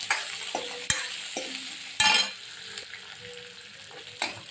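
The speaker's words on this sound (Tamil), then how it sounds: "இப்போ கருவேப்பிலை கொஞ்சம் போட்டுக்கிடுவோம்" Curry leaves crackle and spit in hot oil in a pan, with sharp sizzling bursts and a few stirring knocks, heard close up with no talking.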